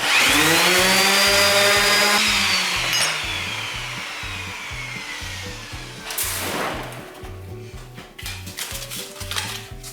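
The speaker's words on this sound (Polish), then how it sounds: "Możemy szlifierką przelecieć sobie." A power sander's motor whines loudly while smoothing aluminium, then winds down to a lower hum, over a steady thumping rhythmic beat in the background.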